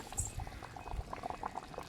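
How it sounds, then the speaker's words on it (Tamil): Thick bitter gourd tamarind curry bubbles and blips quietly in a pot, small irregular pops over a soft simmering hiss. "குழம்பு வந்து கொதிச்சிச்சு ஒரு கொதிச்சுக்கிட்டு இருக்கு"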